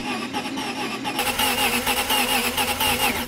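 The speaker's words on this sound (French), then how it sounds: "On va juste faire tourner le moteur au démarreur" A Maserati engine with its ignition disconnected is cranked by the starter motor, a loud, close, rhythmic whirring churn that kicks in about a second in and keeps turning over without firing.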